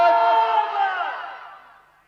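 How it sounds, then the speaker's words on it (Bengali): A crowd at a Bengali waz gathering shouts the takbir chant, many voices roaring together in one loud call that trails off and fades over about two seconds. "একটু জোরে তাকবীর দেন, নারে তাকবীর, নারে তাকবীর"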